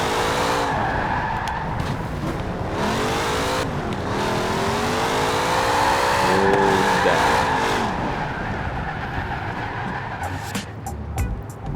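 A 1970 Chevrolet Chevelle SS V8 muscle car driven hard, a loud close engine rising and falling through revs, with sweeping pitch changes and a few sharp clicks near the end.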